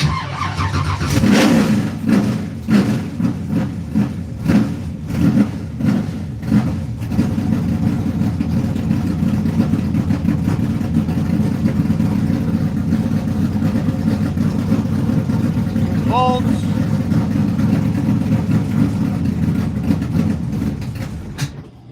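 Car engine cranked with a little throttle until it catches, then running loud and close with a rough, uneven idle that keeps surging for about twenty seconds, no talking.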